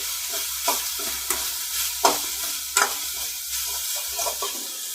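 Karonda and coconut chutney is stirred in a pan, a steady soft sizzle under scraping strokes of the spoon, with a few sharper clicks of the utensil against the pan, close and fairly quiet.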